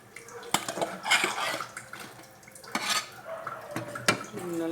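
Fermented flour batter being mixed in a pot, with a utensil repeatedly scraping and knocking against the metal sides in an uneven rhythm, close and moderately loud.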